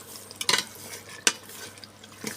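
Bori cooks in a pot on a home stove while being stirred, giving a faint low simmer broken by a few sharp scrapes and clinks of the spoon against the pot, with no talking.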